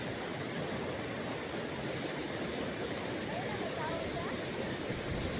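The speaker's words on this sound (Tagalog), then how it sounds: "Malakas din ang ragasan ng tubig sa ilog." A swollen river rushes hard during typhoon flooding in Negros Oriental, a dense, unbroken roar of churning water, steady and moderately distant throughout.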